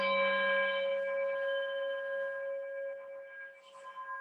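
A singing bowl struck with a beater rings out in one long, steady tone with bright overtones, fading slowly over several seconds with no voices.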